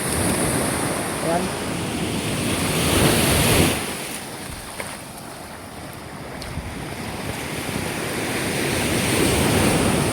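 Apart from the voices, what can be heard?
ocean waves crashing on shore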